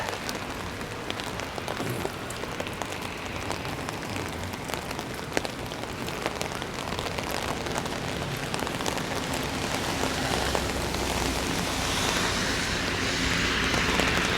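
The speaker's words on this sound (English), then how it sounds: "Can you hear the wind beating on the umbrella? The rain, I mean." Heavy rain drums steadily and loudly on an umbrella overhead in wet, windy weather in Halifax, a dense unbroken patter that swells slightly toward the end.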